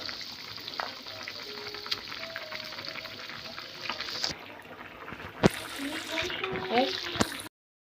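Fish fries in a hot pan at close range, with a steady sizzle and crackle. Stirring and clinking sounds mix in, and a voice talks over the cooking.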